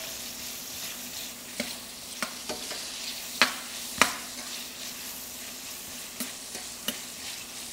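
Steak and peppers fry in a hot pan with a continuous crackling sizzle, broken by a few sharp scrapes and clicks as the food is stirred, close and with no talk.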